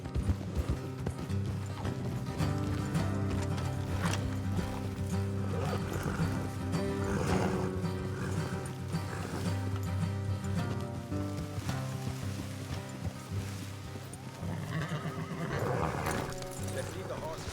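Horses in Red Dead Redemption 2 whinny and clip-clop with steady hoofbeats, mixed with a continuous game soundtrack and occasional character talk.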